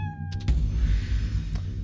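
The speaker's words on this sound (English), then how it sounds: "I think that's a cat." A pet cat in the video game Fallout Shelter gives a short meow, heard clearly once over a steady low hum of in-game background sound with no talking.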